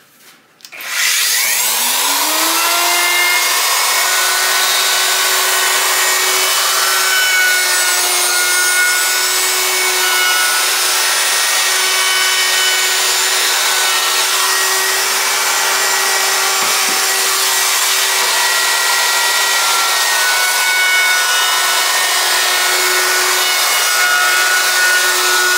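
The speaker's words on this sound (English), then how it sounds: "Tele's normally get an 1/8 inch roundover, and we'll do that with the router, just kind of freehand with this little follow bit here." A handheld router fitted with a small 1/8-inch roundover bit cuts the edge of a wooden Telecaster-style guitar body, freehand. It spins up to a steady, loud high-pitched whine and holds it without a break, cutting close up with no talk.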